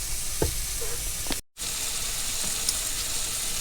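Food sizzles steadily in a hot frying pan during a vanlife curry cook, a continuous broadband hiss with a brief dropout midway and a few small clinks.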